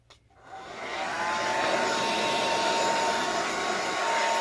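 A dryer drying gesso or Kilz primer on a mixed-media craft project gives a loud, steady blowing whir with a faint whine that starts abruptly and runs unbroken, close and alone.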